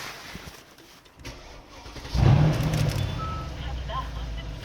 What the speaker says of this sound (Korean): 지금 시동 걸었고요 시동 걸자마자 뒤쪽에서 우렁찬 배기음을 느낄 수가 있는데